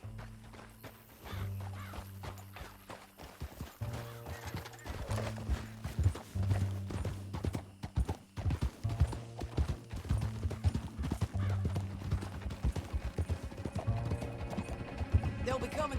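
Hooves clip-clop rapidly as horses gallop in Red Dead Redemption 2, with an occasional whinny and a low steady hum underneath.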